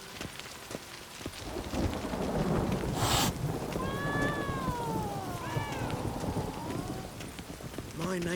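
Steady rain pours down with distant rolling thunder in a stormy scene in The Witcher 3: Wild Hunt, while a cat-like cry and warbling tones rise and fall over the downpour.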